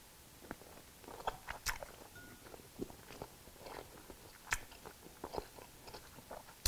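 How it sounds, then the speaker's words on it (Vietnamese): Close chewing and biting of food while eating a winter melon soup with shrimp and pork meatballs, a run of soft irregular crunches and mouth sounds, no talking. "Cho dù không chép miệng nó vẫn nghe cái tiếng đồ ăn"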